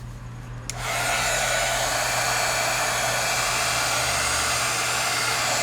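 A hair dryer blows on wet acrylic paint in an art journal. It switches on after a faint click and then roars loud and steady at close range, with no talk.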